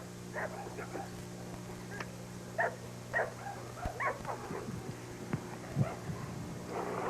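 Working dog barking in a training yard during bite work, with several sharp barks and yips scattered irregularly over a steady low hum, fairly close and moderately loud.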